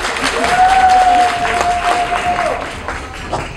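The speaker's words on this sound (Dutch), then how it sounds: "Dank u allemaal voor jullie applaus." An audience at a beauty pageant semi-final in Sint-Niklaas applauds loudly and continuously, a dense crowd clapping with a steady tone sustained briefly through the middle.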